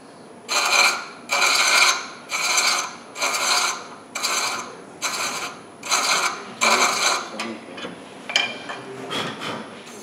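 A wooden threaded box, its threads waxed with paraffin, being screwed through its threads, giving about eight evenly spaced rasping, grinding strokes close up, followed by a few softer scrapes.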